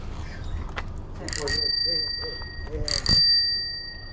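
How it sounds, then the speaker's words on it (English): A bell on a Huffy bicycle rings twice, two bright metallic dings about a second and a half apart with ringing tails, while people talk nearby in the background. "The bell works."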